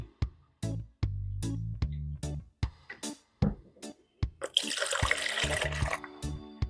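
Water is poured into a measuring cup in a home kitchen in a series of short splashing bursts separated by pauses, then a longer continuous pour that fills the cup. The sound is close and fairly loud.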